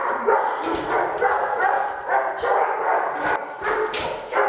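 Several dogs barking in overlapping bursts in the dog run rooms of an SPCA animal shelter, loud and continuous, echoing in an enclosed space.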